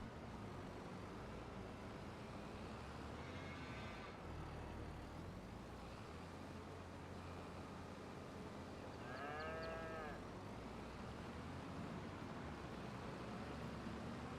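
Cattle in the farming video game Farming Simulator 22 give two drawn-out moos, somewhat distant, over a constant rumbling background of machinery-like noise.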